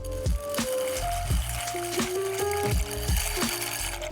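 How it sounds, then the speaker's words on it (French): Macaroni poured into a pot of boiling water for a vegan mac and cheese, with pasta rattling and splashing in quick bursts over a steady bubbling rumble, close by. "Pendant que le butternut est en train de cuire et que l'eau bout ici, on va ajouter les macaronis"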